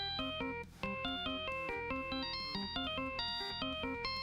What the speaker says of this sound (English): it's Neon Genesis Evangelion is my character's ringtone